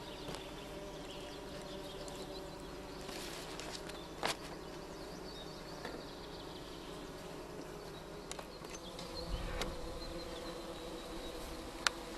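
Honeybee colony in spring after overwintering, a healthy hive that lost very few bees, bred for Varroa mite resistance, gives a steady, close hum of many wings, broken by a few sharp knocks and thumps around the hive.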